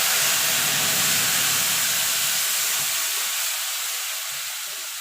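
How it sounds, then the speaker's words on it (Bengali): Spice paste hitting hot oil already tempered with whole cumin, cinnamon, cardamom and cloves for a vegetarian chana masala gives a loud, steady hissing sizzle that gradually fades over several seconds, with no talking. "এবার যে মশলাটা করে রেখেছিলাম দিয়ে দেবো।"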